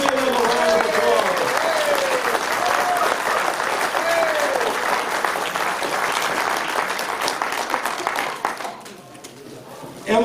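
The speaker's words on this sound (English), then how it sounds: "Please give them a round of applause" An audience at a board candidate meet-and-greet in Hot Springs Village claps loudly and continuously, a dense roar of hands that fades near the end. A voice talks over the start.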